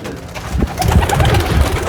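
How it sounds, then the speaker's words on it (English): Roller pigeons of a red checker family coo in a loft, a low soft rolling murmur that starts faintly and swells into steady close cooing, with no talk. "Ready to fly some pigeons?"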